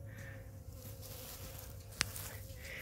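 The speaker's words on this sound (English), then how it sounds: "We got this little container here with some sugar water, and you can see that the bees are going to town on it." Honeybees crowd a small container of sugar water near a row of hives, giving a faint, steady insect buzz with one sharp click near the end.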